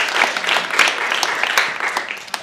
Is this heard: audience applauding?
yes